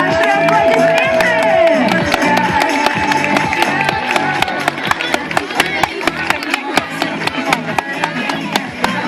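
Loud, sustained applause and cheering from a crowd of children at a summer camp campfire show, dense rhythmic clapping filling the whole stretch with no talk over it.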